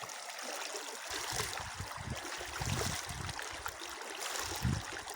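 Rushing river water flows steadily with a broad hiss, alongside low gurgling and splashing nearby.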